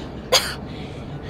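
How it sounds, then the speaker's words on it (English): A single short cough bursts out in a Call of Duty Modern Warfare (2019) scene, loud and close, then a quiet ambient bed continues. "They'll hear you coughing."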